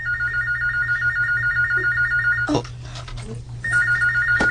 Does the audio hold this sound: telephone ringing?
yes